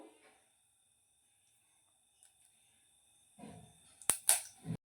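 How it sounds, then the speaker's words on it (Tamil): Mustard seeds crackle and pop in hot oil in a home kitchen while a long-bean stir-fry is being prepared, with a few sharp, loud pops coming close together near the end after a mostly quiet stretch. "கடுகு வெடிக்கட்டும்."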